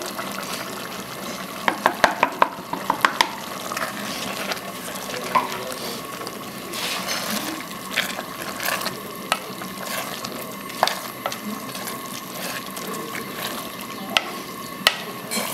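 Chicken frying in a pan with water for a rustic Brazilian cuscuz, stirred with a utensil; a steady sizzle runs throughout, broken by frequent sharp clicks and scrapes of stirring up close.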